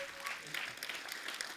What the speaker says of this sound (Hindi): जोरदार तालियां हो जाए एक बार हमारे अतिथियों के लिए।